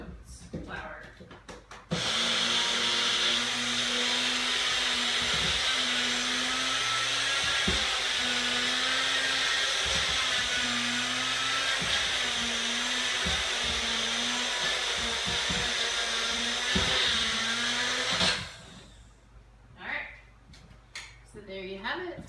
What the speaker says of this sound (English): I'm just going to go over here and blitz it on the blender to make our own oats flour.